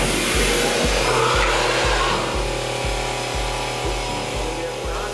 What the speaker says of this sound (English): the very first incision made in the billet is the 22 millimeter diameter hole